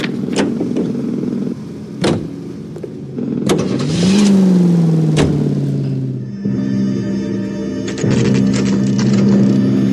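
Car engine in L.A. Noire, a steady close rumble with a pitch that shifts as the car revs and changes gear. Sharp clicks and knocks sound over the top now and then.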